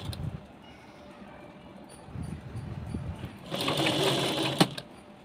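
A sewing machine stitches a sleeve onto a readymade dress in a short, rapid whirring burst, preceded by quiet fabric handling and brief pauses.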